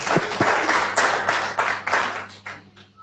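A church congregation at a Sunday service claps in welcome, a few seconds of loud, close, uneven applause that gradually fades out.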